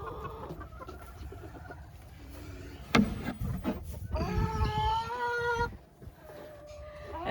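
Backyard chickens cluck and squawk close by, rising into a loud, drawn-out run of calls in the middle, with one sharp bang and a quieter clucking hen beneath.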